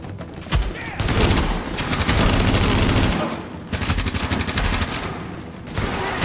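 Video game gunfire from Tom Clancy's The Division: loud sustained automatic bursts and rapid fusillades in several long stretches, briefly broken by short gaps, with no one talking over it.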